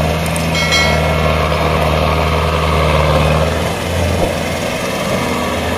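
A Mahindra Arjun 605 Nova tractor engine runs steadily up close, a loud continuous low diesel drone with a faint mechanical rattle, holding an even level throughout.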